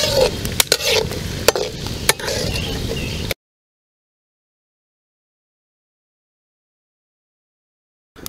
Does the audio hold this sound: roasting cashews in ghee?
yes